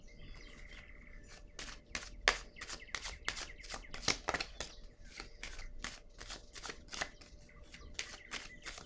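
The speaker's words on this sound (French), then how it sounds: "Je vais déposer une carte ici." A playing card is laid down on a table, heard as a quick run of crisp, close taps and slaps of card against the surface in a quiet room.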